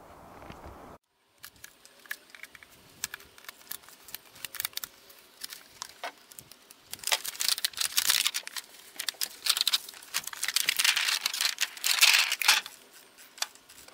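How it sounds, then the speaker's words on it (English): Scissors cut blue plastic wrapping off a Chins 200Ah 12V LiFePO4 battery: close, irregular snips and crinkling plastic, sparse at first, then denser and louder in the second half. "I'm going to have to cut this blue wrapping off"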